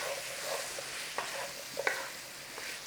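Food sizzles in a tiny tin while a big breakfast cooks, a soft, steady frying hiss broken by a few faint utensil taps.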